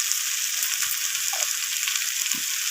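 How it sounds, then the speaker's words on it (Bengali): Spices and vegetables for a kohlrabi, bean and eggplant chorchori cooked in rohu fish oil, sizzling steadily in a frying pan, a dense close hiss with faint stirring taps underneath and no talking. "তো সমস্ত মশলা এইভাবে সবজির সাথে নাড়িয়ে চাড়িয়ে আমি কষিয়ে নিচ্ছি"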